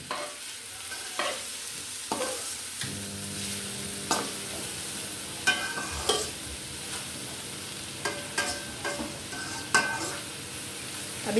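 Vegetables stir-frying in a pan with garlic and ginger: a steady sizzle under repeated scraping stirs of a utensil, close-up and without speech.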